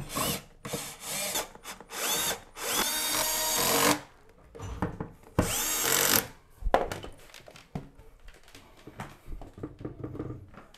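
A power drill drives screws into a wooden shelf in repeated bursts of whirring with short pauses between, close and fairly loud, followed by quieter handling clicks and knocks.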